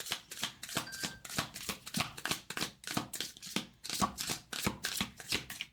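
Tarot cards are shuffled by hand in quick, steady riffs and slaps, a crisp papery rhythm repeating close to the microphone with no talking.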